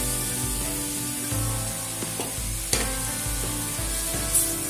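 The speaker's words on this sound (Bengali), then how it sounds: "ছাতু দিয়ে পুরটাকে ভালো করে মিশিয়ে আবারও নাড়াচাড়া করে নেব।" A pan of cauliflower paratha filling mixed with sattu is stirred over heat in a Bengali village kitchen, giving a steady soft sizzle with scraping stirs and a few sharper knocks, close and fairly loud.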